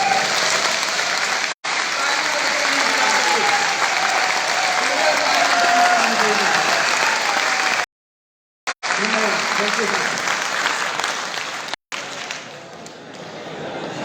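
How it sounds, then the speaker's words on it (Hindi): A large crowd at a Varanasi political rally applauds in sustained, dense clapping that fills most of the stretch, loud and continuous, with brief cuts and a quieter tail at the end. "दोनों हाथ ऊपर करके ताली बजाइए।"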